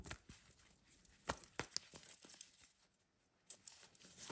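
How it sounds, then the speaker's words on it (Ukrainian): Quiet papery riffling and crisp snaps of cards being handled, a few sharp flicks among soft rustling, close up with no voices. "Я зараз перетасую для вас карти"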